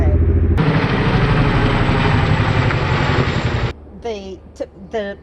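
Helicopter flying overhead during spring seed starting outdoors, a loud close rotor and engine roar that cuts off abruptly near the end, followed by people talking.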